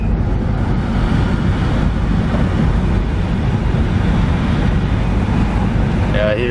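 A BMW E36 drives along a road, heard from inside as a constant loud wash of road rumble and wind noise with no clear breaks.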